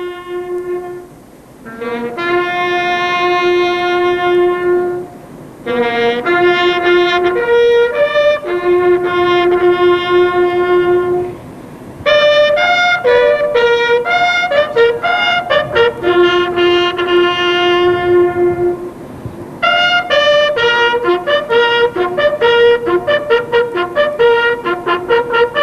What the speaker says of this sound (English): The pipes and drums of the Gibraltar Regiment then played along Reveille.